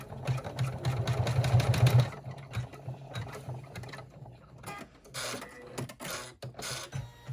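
An embroidery machine stitches a flapped purse with a rapid mechanical needle patter, loud and steady at first, then thinner with intermittent clicks and whirring bursts as it continues, no voices.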